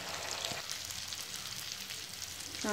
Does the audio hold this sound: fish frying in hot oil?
yes